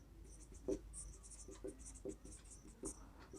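Math being written by hand on a board during a class, a run of short close scratchy strokes and taps in quick irregular rhythm, fairly faint.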